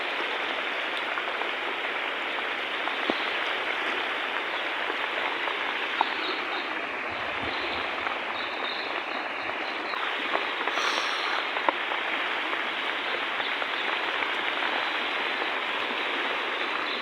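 Heavy stormy rain and fast-flowing water roar in a dense, steady hiss that stays constant throughout, with no voices.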